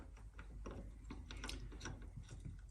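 Gears are pulled off a Grizzly G0602 lathe after a small clip is removed, giving faint, close ratcheting metallic clicks in a quick irregular series.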